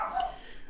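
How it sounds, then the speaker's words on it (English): Small dogs barking in the background, a short, faint yip-like bark at moderate distance with no talk over it. "If you can hear my dogs barking"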